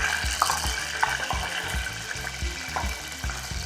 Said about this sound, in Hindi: ये जा रही है कैरी, ये देखिए लच्छों की फॉर्म में है। इसको हम भूनेंगे